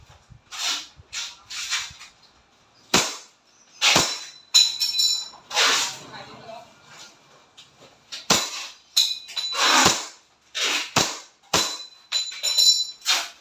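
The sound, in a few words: WE Hi-Capa T-Rex airsoft pistol firing, accuracy test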